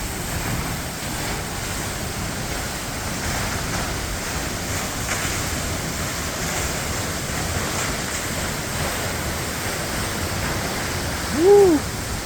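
The waterfall at Perrine Coulee in Idaho roars as a broad, steady rush of falling water heard from underneath the falls, constant and loud, with a brief higher tone near the end.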